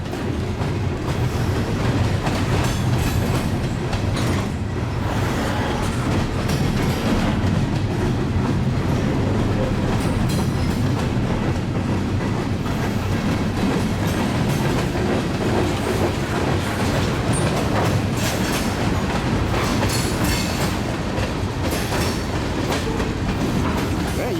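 A long Union Pacific freight train, a detour train, rolls past steadily and loud, wheels clicking rhythmically over rail joints with a constant rumble, no voices.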